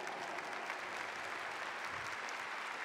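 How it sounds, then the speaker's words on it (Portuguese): A crowd applauds with dense, steady clapping that fills the whole stretch, heard from a little distance with no talking. "Vamos receber com uma salva de palmas."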